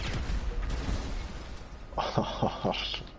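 A sticky bomb detonating in GTA 5, heard as a short series of sharp explosive bursts in the second half, following a stretch of talking and background game noise.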